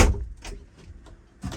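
A bathroom door aboard a racing boat is pulled shut, giving a couple of short knocks and a thud at the start and a second bump near the end, close by and fairly soft.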